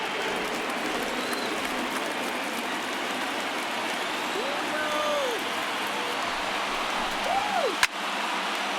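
Stadium crowd in the baseball video game MLB The Show 19, Twins at Red Sox, a steady roar of cheering that holds throughout, swelling slightly near the end and broken by a sharp crack.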